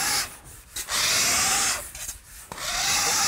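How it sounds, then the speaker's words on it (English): A grill scrubber rasps over a wet plaster wall, scrubbing off old glue in a few long back-and-forth strokes with brief pauses between. The scraping is close and coarse, with no talking. "Now just scrub it down, keep rinsing it off."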